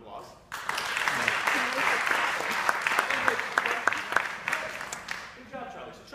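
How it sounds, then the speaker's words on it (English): An audience breaks into applause for a performer in a theater piece, a dense steady patter of many clapping hands with some voices mixed in beneath. "I think that deserves a round of applause."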